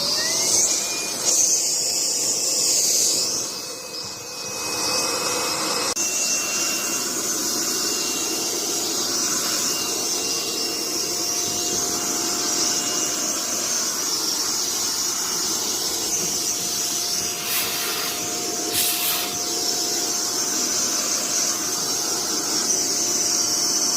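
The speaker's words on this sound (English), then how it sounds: "I just plugged in the vacuum" A household vacuum cleaner drones continuously, loud and close, for use cleaning a dryer vent, with a steady whining hiss and a brief dip in the middle, and no voices.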